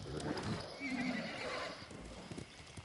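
A horse in Ghost of Tsushima whinnies loudly up close, with clip-clop hoofbeats running alongside the neigh across a short, busy stretch of game sound.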